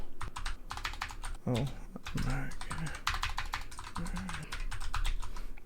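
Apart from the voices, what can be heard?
typing a search term on a computer keyboard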